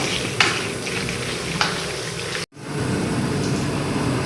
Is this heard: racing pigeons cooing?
no